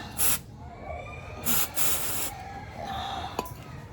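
Cleaner sprayed onto the sensors of a Mitsubishi Mirage G4 gasoline engine, with three distinct hissing bursts, the first two short and the third longer, close to the microphone and followed by quieter background noise.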